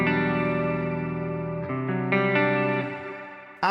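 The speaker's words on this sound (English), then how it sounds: "but this time I have the big shimmer reverb." Clean electric guitar chords ringing out through an N-Audio 8x7 amp switcher with a big shimmer reverb, sustained and layered with a bright, octave-like wash as chords change, no voices.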